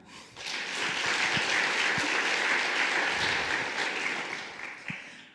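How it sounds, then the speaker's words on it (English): A round of applause for a designer at a legal tech event, building quickly into sustained, fairly loud clapping from a crowd, with a few sharper claps standing out before it tapers off. "I think we should give a round of applause for her."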